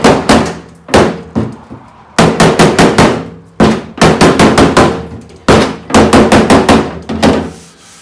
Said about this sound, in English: Oh, let's do a little hammer off dolly.